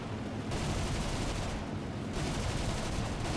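Aircraft guns fire from an NC.900 fighter in the War Thunder combat flight game: a loud, dense, continuous stream of rapid shots over engine roar, with slight dips in intensity near the start and middle, and no talking.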